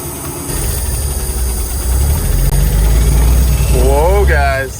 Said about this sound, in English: She's running on her own tanks. I can't believe it runs.